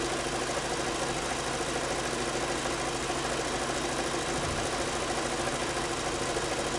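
A steady, low mechanical engine rumble runs unbroken at an even level: a Volkswagen Passat B6 engine idling close by, with no voices.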